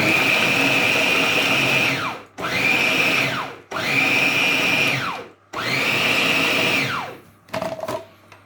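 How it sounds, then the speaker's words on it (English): A food processor pulses bolognese vegetables in four loud, steady bursts of about two seconds each, each motor whine winding down between pulses, followed by a brief clatter. "we're going to run it through our food processor"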